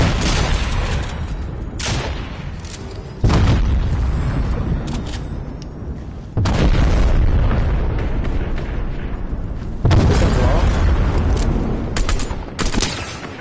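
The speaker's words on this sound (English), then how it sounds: "This guy's tank was blown up." A tank gets blown up in a video game battle: loud booming blasts land roughly every three seconds over a constant rumble of gunfire and explosions.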